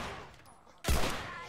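Gunfire from The Last of Us video game: a sudden loud burst of shots about halfway through, cutting in sharply over quieter game ambience and continuing as dense, rapid firing to the end.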